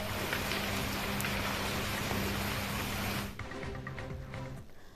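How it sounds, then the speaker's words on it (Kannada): Heavy pre-monsoon rain pours down in Ramanagara district near Bengaluru, a dense, loud, steady roar that suddenly drops to a softer patter near the end, with no voices. "ರಾಮನಗರ ಜಿಲ್ಲೆಯಾದ್ಯಂತ ಧಾರಾಕಾರ ಮಳೆ ಸುರಿತಾ ಇದೆ"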